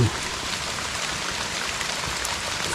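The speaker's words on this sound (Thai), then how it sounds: "เดี๋ยวนี้ก็ห้าโมงแล้วแต่ฝนตกหนักสุดๆเลย" Heavy rain falls in a forest at about five in the afternoon, a dense, steady hiss of drops that stays even and fairly close throughout, with no talk.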